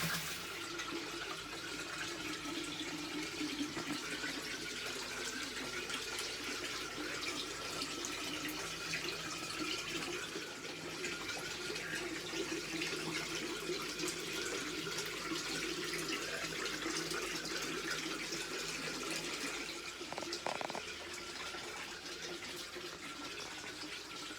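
Continuous splashing and trickling water runs steadily into a DIY garden pond, a dense close-up wash of falling water with no pauses.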